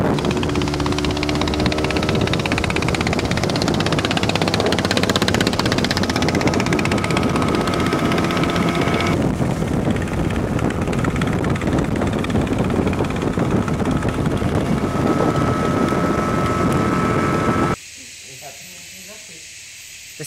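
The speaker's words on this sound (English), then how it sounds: "A local fast boat 1 hour upriver to enter the rainforest." A local fast boat speeding upriver toward the rainforest gives off a loud, continuous roaring hiss of engine and rushing water with heavy wind buffeting, cutting off abruptly near the end.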